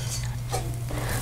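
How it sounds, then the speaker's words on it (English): Spiced lotus seeds (makhana) are stirred in a pan, giving soft scraping and rustling strokes over a low steady hum, close and brief with no talking. "Stir well for the spices to coat all the seeds"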